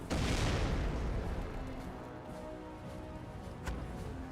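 Artillery barrage from a commando decoy barrage in Company of Heroes, with booming shell impacts: a heavy blast at the start decaying into a rumbling wash, and another sharp crack near the end.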